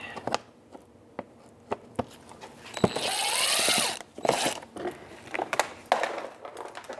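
An 8 mm socket ratchet backs out screws on a 2008-13 Mazda 3, giving scattered sharp clicks and one longer grinding, rattling stretch in the middle, close and without talk.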